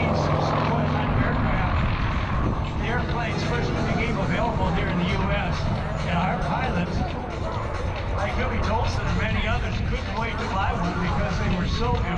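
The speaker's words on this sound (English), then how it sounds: "Now, as Huey is landing" A Huey helicopter landing at an airshow, its rotor and turbine roaring loud and steady throughout, with a public-address commentator talking over it.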